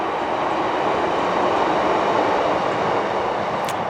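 A train rolls past on the railway line right beside an allotment plot, a steady loud broadband rumble filling the whole stretch with no pause, close by and unbroken.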